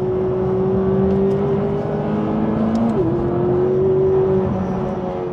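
A McLaren 540C engine drones steadily inside the cabin, with a brief pitch dip partway through as revs shift, loud and continuous.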